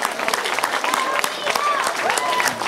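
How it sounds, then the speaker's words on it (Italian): Warm applause rises from an audience at an outdoor summer theatre evening in Bacoli, a full round of close clapping with a few cheers and voices calling out within it. "un applauso che non l'ha avuto."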